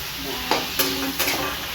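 Vegetable curry is stirred and fried in a pan, with a soft, steady sizzle and three quick scraping stirs close by, all fairly quiet and without talk.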